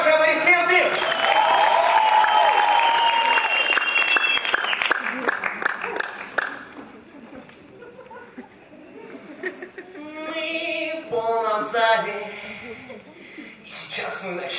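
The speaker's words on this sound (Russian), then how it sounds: "Ваши аплодисменты!" Audience applause at a KVN comedy league game in Novosibirsk, loud clapping with cheers for the first several seconds fading out, then a voice speaking and singing over a quieter hall.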